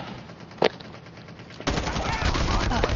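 Gunfire in a Call of Duty battle royale match: a single sharp shot early on, then dense, sustained automatic fire.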